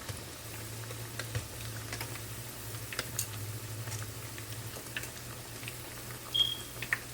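Okra vada frying in hot oil, a steady soft crackle and patter of bubbling with faint ticking pops throughout, quiet and close.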